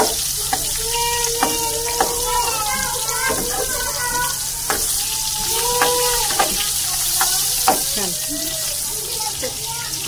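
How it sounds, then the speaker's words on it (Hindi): Chicken masala being fried in a pan, a steady sizzle with scraping and stirring clatter over a constant hiss, while someone talks intermittently close by. "यहाँ यहाँ पे चिकन का मसाला भी भूनना ही देखें अच्छी तरह भूनना"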